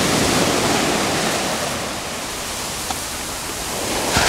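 Mediterranean Sea waves washing onto a beach in winter, a broad steady roar of surf that swells and eases slightly, with a couple of faint clicks and no voices.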